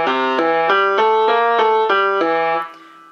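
A clean, bright keyboard tone plays the boogie woogie left-hand pattern, about eight evenly spaced stepping notes alone and up close, the last one fading out.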